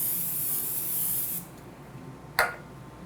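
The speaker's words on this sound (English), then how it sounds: "I'm going to spray half with the cooking spray." A can of cooking spray hisses onto a pan for lean ground beef in a keto taco pie, one loud, steady close-up burst that stops abruptly, followed by a brief rattle.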